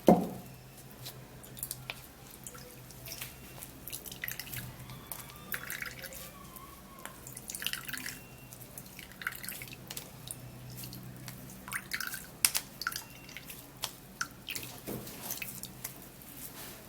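Juice dripping and trickling through a sieve, soft irregular drips and small wet splashes close by, faint and steady throughout with occasional louder drops.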